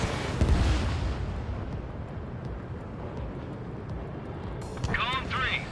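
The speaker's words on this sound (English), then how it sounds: "H2, missile launch." A missile launch in Ace Combat 7: Skies Unknown gives a sharp whooshing burst near the start over a constant roar of jet aircraft. A voice speaks briefly near the end.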